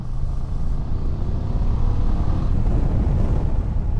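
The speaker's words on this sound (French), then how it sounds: "le moteur il marche bien" A 2024 BMW F 800 GS motorcycle engine hums steadily while riding, a continuous low rumble with road and wind noise and no talk.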